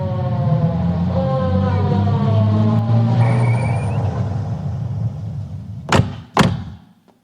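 A police car pulls up, its siren wailing and winding down over the engine rumble, followed by two loud, sharp thuds like car doors slamming shut.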